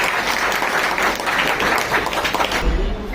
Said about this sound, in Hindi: तालियां सर, तालियां प्लीज।